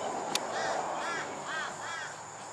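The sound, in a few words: crows cawing at a hawk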